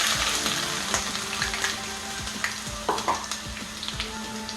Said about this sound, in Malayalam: ടേബിൾ സ്പൂൺ ഉലുവ അതിനകത്തിട്ടിടുക. എന്നിട്ട് ചെറുതായിട്ടൊന്ന് ഇളക്കി കൊടുക്കുക.